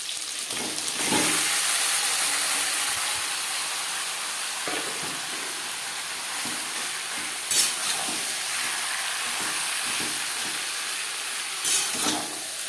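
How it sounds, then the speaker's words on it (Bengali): Marinated chicken cooks in a little oil over high-to-medium flame for potato chicken curry, giving a constant close sizzle and hiss with occasional spoon clinks and stirring scrapes, no one speaking. "ম্যারিনেট করে রাখা চিকেন আমি রান্নাটা কম তেলে করছি"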